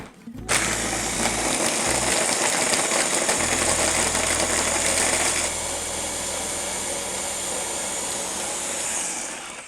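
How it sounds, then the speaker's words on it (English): A blender grinds a watermelon mango margarita of ice, tequila, triple sec and sugar, a loud, steady motor whir with crunching ice that runs throughout, easing slightly partway through. "Next, we're going to add our sugar, our triple sec, and 2 jiggers of tequila, 2 cups of ice, and we'll blend"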